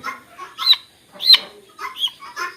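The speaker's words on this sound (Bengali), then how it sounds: "খুব রাগি মুরগি এইগুলা" Hens on a poultry farm give several close, loud, short clucks and squawks in irregular bursts over a couple of seconds, with no voices.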